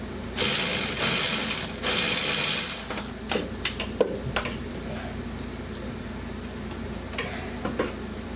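A ratchet with an adjustable pivoting head clicks in quick rhythmic bursts during transmission removal on a 2003 Lincoln Aviator, with short pauses and sharper mechanical clacks in the later bursts.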